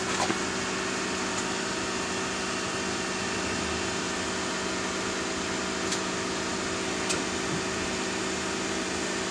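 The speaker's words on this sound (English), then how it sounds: "that noise you hear right there is just the air conditioner that's on." The air conditioner of a running 2019 Honda Accord Hybrid gives a steady, even blowing hum with a faint tonal drone, constant throughout and heard up close with no talking.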